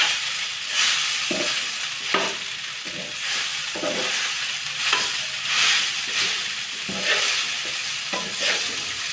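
Cooked rice with toor beans being mixed in a heavy-bottomed pan, a rhythmic series of spoon scrapes and soft shuffling strokes over a light sizzle, close and moderately loud, without talk.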